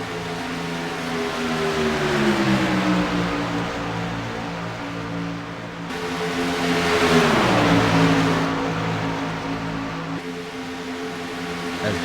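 Racing trucks roar past on the Daytona speedway during a GAC Truck Series race, engines droning loud and steady with pitch sweeping down as packs pass by, two distinct waves of passing trucks.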